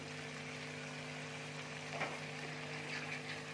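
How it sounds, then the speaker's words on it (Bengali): Sour yogurt and Kashmiri chilli added to a hot pan while cooking besan sabji, giving a soft, steady background sizzle with a faint hum and a couple of light bursts, no voices. "দেখো টক দই দিয়ে দিচ্ছি, কাশ্মীরি লঙ্কার দিয়ে দিচ্ছি।"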